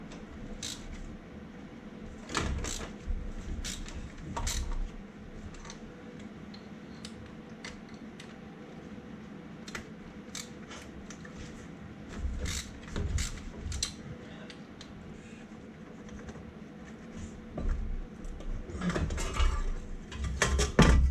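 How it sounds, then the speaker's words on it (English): Metallic clinks and ticks of a wrench and socket working the seven cylinder head bolts loose on an engine, scattered sharp taps and rattles at close range, fairly quiet, with no talk. "now I'm gonna remove the 7 bolts and take the head off"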